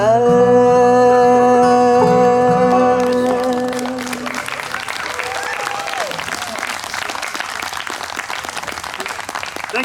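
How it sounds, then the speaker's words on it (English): At a bluegrass concert, the band's last sustained chord rings out and fades while audience applause rises beneath it, then dense, steady clapping carries on alone. "Thank you for that kind applause"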